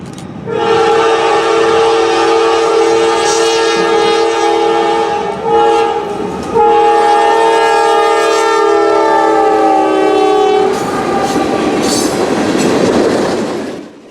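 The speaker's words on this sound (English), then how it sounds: "This is NS 142, daily manifest train from Norris Yard in Irondale, Alabama" A Norfolk Southern manifest freight train, NS 142, rumbles past, blasting long, loud horn notes over the steady clatter of rolling cars.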